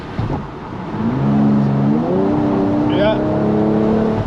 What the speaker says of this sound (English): but you can still hear that little engine